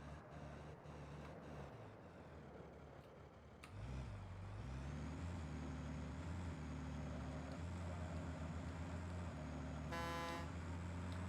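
Vehicle horns honk in the Satisfactory video game, a short horn burst near the end over a steady low engine hum from game vehicles running around a factory city, with no talking.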